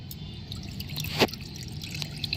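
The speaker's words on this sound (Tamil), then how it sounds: "ஓகே, நான் இப்போ தண்ணியை ஊற்ற போகிறேன்." Water poured from a small bottle while cooking in miniature, a quiet close trickle with light drips and one brief splashy burst partway through.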